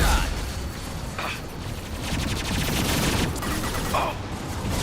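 High-impact gunfire in Mass Effect 2, with dense crackling shots and heavy blasts overlapping in a loud, continuous barrage.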